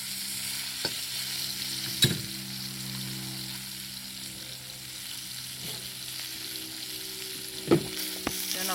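Onion and ginger stir-fried in a pan, giving a steady low sizzle with occasional sharp clacks of a utensil against the pan, continuous and fairly quiet, no talk.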